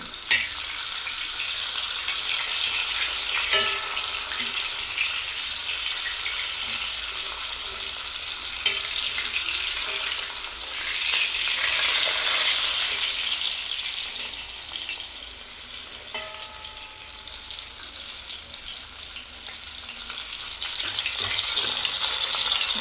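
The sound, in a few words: fish frying on a dosa griddle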